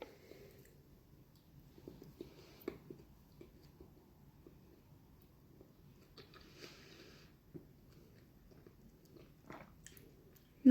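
Bites into Dubai chocolate and chews it, with soft crunching and wet munching recurring close to the mic, plus a few sharper crunches and a loud snap right at the end.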